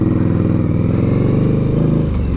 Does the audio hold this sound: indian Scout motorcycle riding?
yes